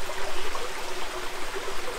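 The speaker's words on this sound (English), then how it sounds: "I'm gonna get in this cool, small waterfall" A small, cold waterfall on a hiking trail at Dos Mangas, Ecuador, pours in a steady, broadband rushing wash with bubbling texture, close and continuous, with no voices.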